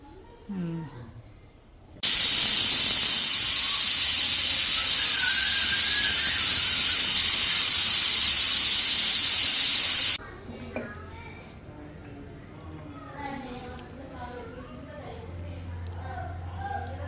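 A pressure cooker holding mutton head curry lets out a loud, steady whistling hiss of steam for about eight seconds, then quiets to a low background rumble; a voice is heard briefly before it starts.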